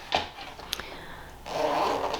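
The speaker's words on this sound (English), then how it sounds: "It's a little bit cumbersome to do with one hand, but it has a diagonal zipper like so." A diagonal zipper on a make-up bag is pulled open, giving a short scratchy zip followed by a longer, louder rasping run, close up with no talking.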